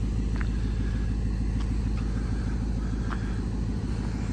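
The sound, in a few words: 1959 Ford Galaxie Sunliner V8 engine running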